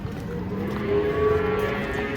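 A giant bull or cow, a leftover sacrificial animal unloaded from a truck, lets out a long, low moo that holds steady for about two seconds over outdoor background noise, with no talking.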